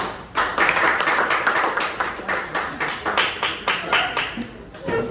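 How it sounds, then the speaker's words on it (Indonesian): A small classroom audience claps for a group presentation, a close, rhythmic burst of hand claps with individual strikes clearly audible and slightly uneven. "Kita presentasi dari kelompok 1A, tepuk tangan dulu"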